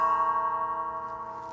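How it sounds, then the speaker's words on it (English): An heirloom ice bell cymbal, once a grandfather's, struck once and left to ring, a bright sustained tone with dense shimmering overtones slowly fading on its own. "This is something of just an ice bell"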